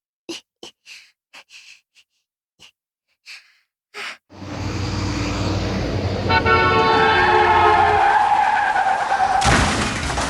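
Staged car crash in street traffic: a few short, sharp breathy sounds, then a sudden loud, sustained tire screech blended with a blaring horn, ending in an abrupt crashing burst.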